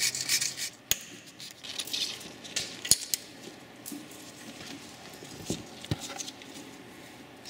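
A brake caliper piston being cleaned on a Dodge Grand during a rear brake job: light scraping and rubbing with sharp metallic clicks and taps scattered irregularly, close by and fairly quiet, with no voices.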